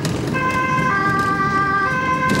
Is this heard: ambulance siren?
yes